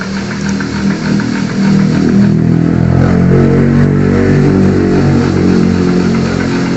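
A generator turning steadily during a connection test to SCADA through an Arduino, giving a continuous, loud engine-like mechanical drone with a steady harmonic hum throughout and no talking.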